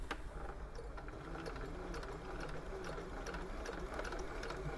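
An old Husqvarna sewing machine runs a steady straight stitch at a set stitch length, a continuous close whirring and rhythmic needle clatter with no talk over it.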